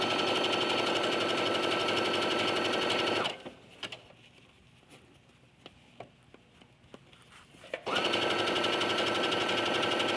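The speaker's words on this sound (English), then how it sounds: "I'm sewing close to the pin because I'm capturing the seam allowance before I take the pin out." Sewing machine stitching knit fabric with a wobble stitch and stretch needle, pinned seam allowance: a steady loud whirring hum for about three seconds, a pause with faint ticks and handling, then the motor runs again at the end.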